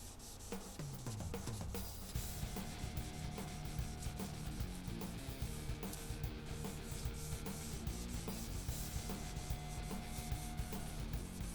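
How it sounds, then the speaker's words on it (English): Continuous hand wet sanding of a polyurethane finish on a guitar, rhythmic rubbing strokes, close and steady, with no talking. "I'll start wet sanding the poly"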